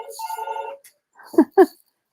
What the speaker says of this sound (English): Oh, and the phone's ringing.